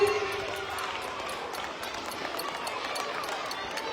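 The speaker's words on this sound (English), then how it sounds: "Keep the claps also going on, everyone. Please keep clapping." A crowd at a sports event claps in a dense, steady patter of many hands, moderately loud and continuous, with a voice over it at the start.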